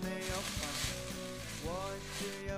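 Soup with light soy sauce and starch slurry sizzling and bubbling in a hot wok, a steady close crackle with faint clinks of stirring throughout.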